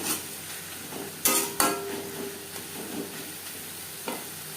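Spices and onion are stirred in a frying pan for a fish-oil chorchori, a soft steady sizzle with a few sharp scraping clangs of the spatula against the pan, then quieter stirring, no voice.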